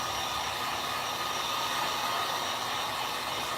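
A hair dryer blows continuously on acrylic craft work, a steady close-up whoosh with no speech.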